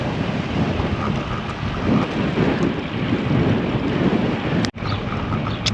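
Strong wind buffets a vehicle driving on a rural road, gusting into the front quarter as a loud, continuous low roar and rumble with slight surges throughout, broken by one brief dropout near the end; no voices.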